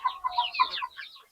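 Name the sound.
sick chicken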